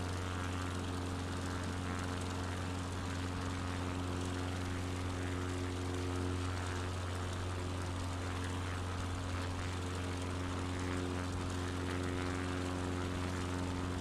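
Steady propeller-plane engine drone with a strong low hum and harmonic bands, carrying on without a break throughout, as a fixed-wing aircraft in a flight video game heads out over cliffs.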